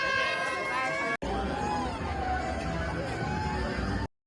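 A large, dense crowd at the Mhasa yatra fair in Thane district, a continuous close hubbub of overlapping voices and movement with people talking nearby, cut off briefly midway.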